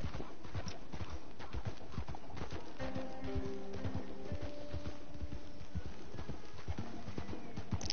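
Horse hooves clip-clopping in a steady walking rhythm while riding a newly tamed horse in Red Dead Redemption story mode, close and continuous under faint game ambience.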